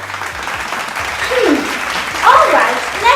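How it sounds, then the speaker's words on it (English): An audience claps at a school presentation, a burst of applause that swells near the end and fills the clip closely. "Everybody, please give a round of applause."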